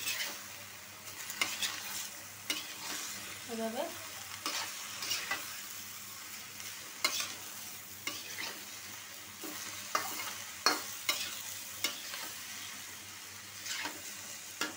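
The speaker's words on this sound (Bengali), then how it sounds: "এখন নাইড়া দিব, কড়াইটা কিন্তু বড় কড়াই," A large kadai with a generous amount of oil crackles and sizzles as the contents are stirred. Repeated scraping strokes come at an irregular rhythm, and one brief spoken word is heard.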